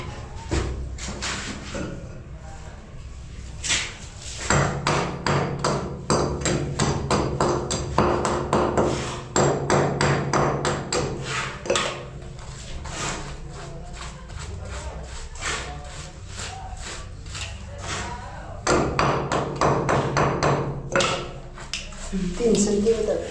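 A hammer taps repeatedly while bathroom tiles are being laid, with steady knocks and scraping close up as workers talk over the work.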